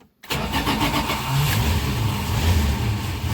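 Carbureted V8 car engine cranking briefly, then catching and running, with a steady rough idle and slight revving that stays loud and close throughout.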